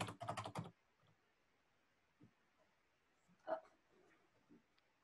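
A keyword is typed on a computer keyboard in a quiet room: a short fast flurry of close key clicks at the start, then a few scattered faint taps and thumps.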